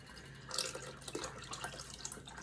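Chicken broth pouring steadily into a pot, a soft continuous splashing stream with a brief louder gush near the start.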